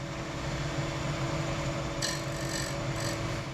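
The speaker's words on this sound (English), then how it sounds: "this is another scraper. And I'm gonna go straight in." A square scraper cuts into a small maple bowl spinning on a lathe, giving a steady close rasping hum over the lathe drone, with brighter scraping bursts in the second half; no speech.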